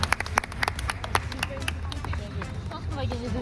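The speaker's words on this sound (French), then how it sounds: "On peut applaudir ce score, on aime." Applause from a small group at a university women's futsal gathering, a burst of sharp claps that thins out over a few seconds amid background chatter.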